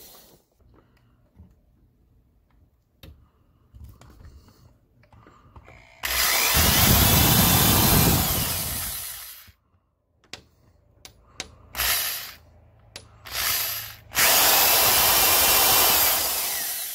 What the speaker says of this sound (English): We got the drill handy.